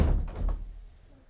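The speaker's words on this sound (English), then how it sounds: "Okay, shut the door." A door being shut: a heavy thud with a short low rumble, near and fairly loud, fading into quiet room noise.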